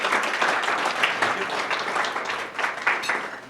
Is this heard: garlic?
no